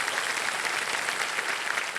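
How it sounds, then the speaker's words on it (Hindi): A television quiz-show studio audience applauds loudly and steadily, a dense, even wash of many hands with no pauses and no voices. "एक बार जोरदार तालियां बज जाए अनुजा जी के लिए"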